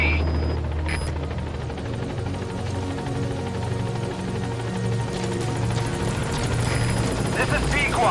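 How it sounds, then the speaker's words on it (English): Support helicopter in Metal Gear Solid V arriving at a landing zone, its steady rotor drone and engine hum sustained throughout under a radio voice announcing arrival. "This is B-Quad. Have arrived at LZ. Will stand by. Support helicopter has arrived."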